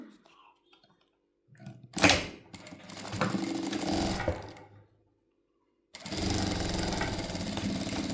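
A sewing machine stitches cloth over a laid-down cord while making a Gauri Ganpati decoration, running in two close bursts of buzzing stitching separated by a silent pause.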